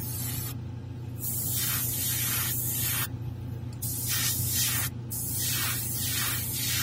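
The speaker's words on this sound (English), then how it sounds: "So I'm spraying real close because I don't want to get overspray on the rest of the horn." Close bursts of clear spray paint on a 1/4-scale figure hiss in several pulses, with brief pauses between passes and a low hum underneath.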